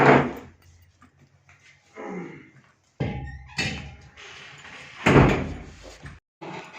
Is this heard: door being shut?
yes